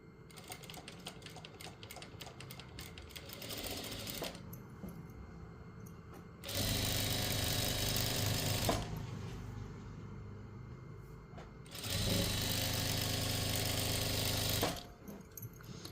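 A sewing machine stitches a lining piece for a double-sided quilted pillowcase, with two long, loud bursts of rapid whirring at a steady rhythm and quieter handling and clicks between them, close up.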